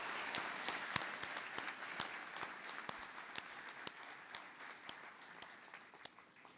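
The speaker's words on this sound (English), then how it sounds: "I wanted to give just a round of applause to all the families and partners and friends that are here." Scattered applause at a 2023 diploma ceremony for a Catholic school of social service, individual claps distinct and somewhat distant, steady for several seconds.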